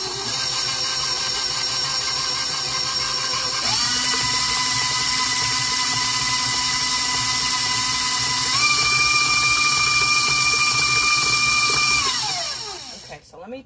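An electric hand mixer whips strawberry chiffon pie filling, a steady close motor whine that holds throughout, its pitch stepping up twice as the speed rises, then cutting off at the end.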